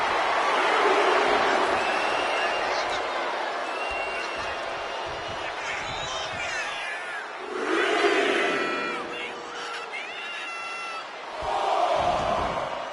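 A packed wrestling arena crowd in WWE 2K25 roars and cheers steadily throughout, swelling louder twice as a wrestler brawls out of the ring and into the audience, with scattered shouts rising above the din.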